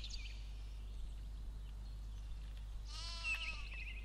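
Sheep bleating in the Black & White video game, a short wavering bleat heard near the end over a steady low background hum.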